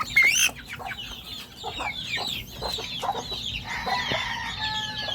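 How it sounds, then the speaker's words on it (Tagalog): Hens cluck close by in a farmyard, a run of short irregular clucks and squawks, with a louder burst at the start and softer chatter continuing throughout. "Tatlong inahin yan mga katasyo."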